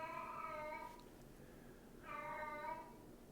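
A house cat meows twice with a pause between, each call a drawn-out, wavering cry, fairly close and clear above a quiet room, with no talking.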